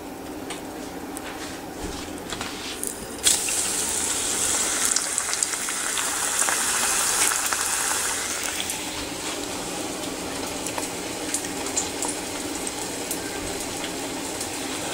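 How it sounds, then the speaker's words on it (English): Rice Manchurian balls coated in cornstarch frying in hot oil, a steady sizzling hiss that swells louder for several seconds before settling into a constant crackle. "And now you can fry this."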